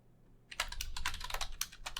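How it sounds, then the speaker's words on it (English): Rapid keystrokes on a computer keyboard while a password is entered at a Linux terminal prompt, a quick irregular run of close, crisp clicks starting after a brief quiet moment, with no voices. "it gets really picky about you typing in the password correctly"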